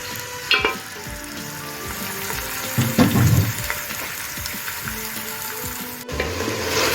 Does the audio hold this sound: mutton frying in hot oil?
yes